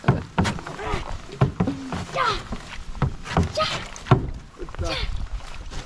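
A pedal-driven canoe pushes through water with rhythmic splashing and sloshing strokes, close and moderately loud, while people talk over it.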